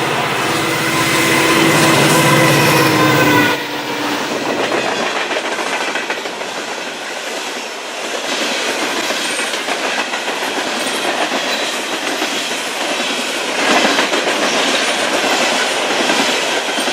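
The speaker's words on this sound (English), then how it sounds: "The first one we see here is NS 2641, as it leads a southbound coal train through here." A southbound Norfolk Southern coal train led by an SD70M locomotive passes close by, a loud engine roar at first giving way to the continuous rumble and clickety-clack of loaded cars rolling past.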